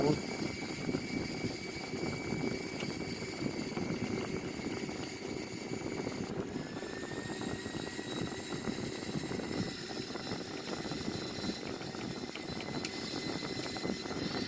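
Airbus A340-313 in a flight simulator game, its engines producing a steady, unbroken drone with a faint high whine that holds for the whole stretch.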